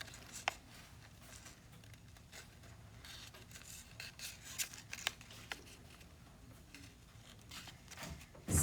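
Thin paper, scored along dotted lines, is folded and creased into a small stellated dodecahedron net, giving soft close crinkles and sharp scraping crease strokes in scattered bursts with no talk.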